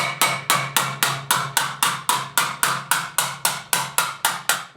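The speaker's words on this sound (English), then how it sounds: "I hold this down and I start pecking on it" A hammer pecks soft copper to shape a spoon, striking in an even rhythm of about fourteen sharp, ringing taps, each decaying quickly, close and clear with no talk.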